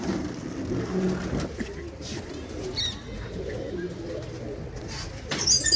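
Pigeons in a loft of pigeon holes coo softly and intermittently over a low background hum, with a few faint chirps and distant traffic.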